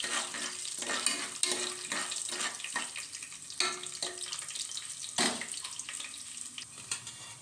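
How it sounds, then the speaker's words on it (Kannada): Split chickpeas, black gram dal and tempering sizzling in a pot for a traditional one-pot rice and field bean uppittu, with steady frying hiss broken by repeated stirring scrapes and clinks, close and fairly quiet. "1 ನಿಮಿಷ ಫ್ರೈ ಆಗಲಿ"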